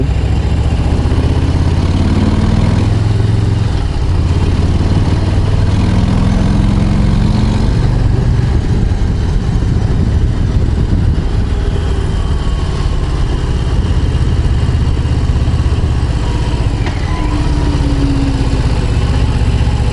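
A Harley-Davidson Low Rider motorcycle idles nearby on a valley road near Petit-Bornand, its low engine rumble steady and continuous throughout, with no speech.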